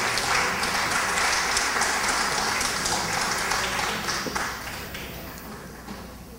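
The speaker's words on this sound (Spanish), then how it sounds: "La señora Tamayo aplaude." Applause from an audience at a public accountability meeting, a dense, steady patter of clapping that fades toward the end, with no clear talk over it.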